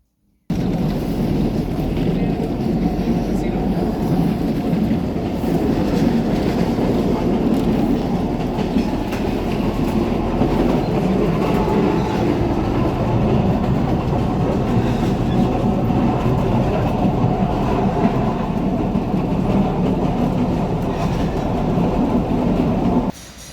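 Chilean buscarril rail bus running along single-track railway, a steady loud rumble of engine and wheels on rails with faint clickety-clack throughout, no talk.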